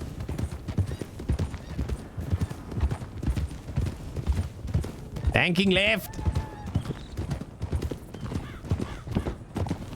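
Horse hooves clip-clopping in Red Dead Redemption 2 on one of the cheapest horses, a steady close trotting rhythm running under ongoing conversation, with a brief whinny partway through.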